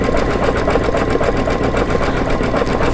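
An embroidery machine sews out a satin stitch design with a steady, dense mechanical whirr and rapid needle rhythm, loud and continuous throughout.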